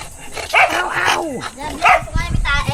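Several dogs kept at a countryside hut bark and yip in short, close bursts while people chat nearby.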